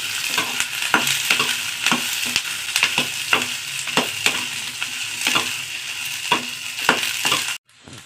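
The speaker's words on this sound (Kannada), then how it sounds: "ಈರುಳ್ಳಿ, ಬೆಳ್ಳುಳ್ಳಿ, 1 ಮೆಣಸಿನ್ಕಾಯಿ ಚೆನ್ನಾಗಿ ಎಣ್ಣೆಯಲ್ಲಿ ರೋಸ್ಟ್ ಮಾಡ್ಕೊಳ್ಳೋಣ ಕೆಂಪಗೆ." Onion, garlic and a green chilli roast in oil for red chutney, a steady sizzle broken by regular scraping stirs of a spoon in the pan, close and fairly loud, cutting off abruptly near the end.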